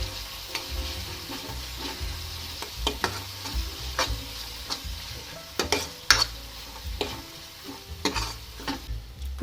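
A spoon stirs dal palak with turmeric, onion-garlic masala, chili powder, homemade masala and asafoetida in a pan, giving irregular scraping clinks over a soft, steady sizzle, close up with no talking.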